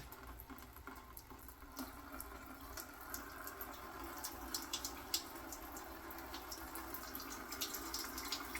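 Water drips and trickles steadily from the coolant jacket holes of a torn-down engine block, a scatter of small splashes and patters over a low background hiss, with no talking.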